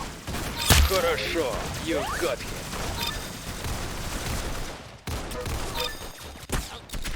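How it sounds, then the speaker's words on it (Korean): Pistol shots in the Roblox game Arsenal, several sharp cracks scattered through the clip amid game sounds, with a person talking over them. "이게 한발 쏘고 장전해야 되나 봐"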